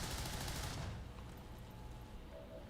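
Gunfire in XCOM 2: War of the Chosen, a loud dense burst for the first second that cuts off into a quieter game ambience with faint tones.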